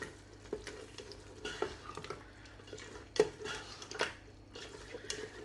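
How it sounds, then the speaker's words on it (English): A spoon stirs lamb karahi curry in a pan, with soft scraping and light sizzling that rise and fall at low level, plus a few sharper clinks of utensil on metal. "Just stir it in on one side of your pan so it doesn't curdle"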